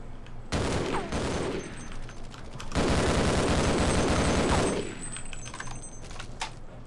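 Rapid automatic weapon fire in Half-Life, two loud sustained bursts of dense, rattling shots, the second longer than the first, close and dominant with a hint of echo as the fire cuts off.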